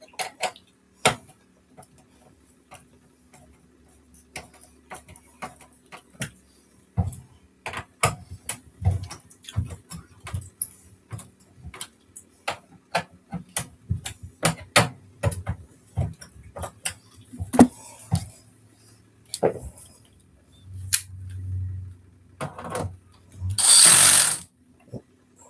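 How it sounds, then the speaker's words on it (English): Screws come out of an LG dryer door in scattered metallic clicks, taps and small clatters, with a few short power-driver whirs near the end, all close and fairly quiet. "I'll take these other 3 screws out."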